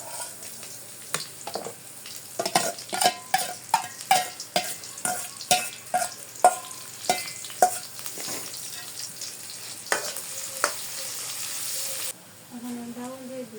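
Cumin, onion and garlic fry in a pan with a constant sizzle, while a spatula clacks against the metal in a rhythmic run of sharp knocks. The sound is close and busy, and a brief voice comes in near the end.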